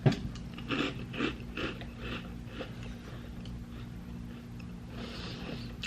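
Dry Chips Ahoy cereal crunched close up, with a rapid run of crisp bites that settles into steady quieter chewing over a low hum. No talking.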